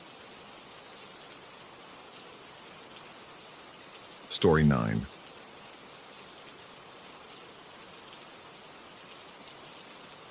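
Steady rain falls as a soft, even hiss running the whole length, interrupted briefly in the middle by a short spoken voice over it.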